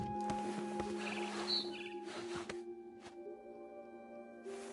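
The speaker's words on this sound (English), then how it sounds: "Then I heard chirping outside my window." Faint bird chirps in the video game What Remains of Edith Finch, a few short high tweets scattered over a quiet game ambience with a steady tonal hum, heard alone with no talking.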